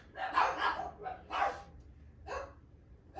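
Dogs bark in a short series of four or so sharp, mid-distance woofs with gaps between them, heard alone over a low background hum.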